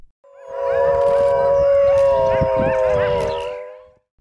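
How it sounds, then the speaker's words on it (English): Wolf howling, one long sustained wavering howl held for several seconds, loud and clear, with faint overlapping howls from other wolves beneath it. "Wolf."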